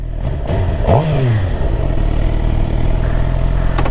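A 2020 Suzuki GSX-R750 sport bike blips its exhaust once, a sharp rising rev that peaks and falls back within about a second, then settles into a steady close idle rumble for the rest of the moment.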